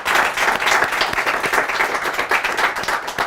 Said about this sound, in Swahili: Jipigeni makofi, come on.